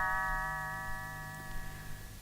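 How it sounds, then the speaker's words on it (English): Little bells chime once as a read-along page-turn signal for Mickey and the Beanstalk, a bright ringing tone that rings out clearly and then slowly fades over about two seconds, with no speech. "You will know it is time to turn the page when Tinker Bell rings her little bells,"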